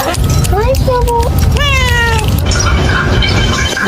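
A pet cat meows several times in a row, rising and falling wails close to the listener over a steady low rumble, with some background noise in the room.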